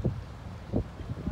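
Outdoor wind on a cloudy day near a Meijer store buffets the microphone in low, rumbling gusts, swelling and fading over a moment with no voices.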